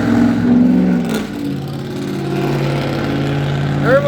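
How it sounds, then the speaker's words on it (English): The engine of a newer truck with a modified exhaust setup rumbles loudly and steadily, swelling in a couple of revs and settling into a throaty drone, close by, with a brief voice near the end. "it's a newer truck with the exhaust set up that way"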